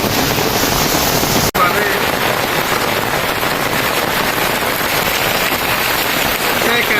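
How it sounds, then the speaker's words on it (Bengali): A heavy, sudden downpour of rain gives a loud, dense, unbroken roar of drops on surfaces and roofing, with one very brief dropout early on. "বৃষ্টি নামছে"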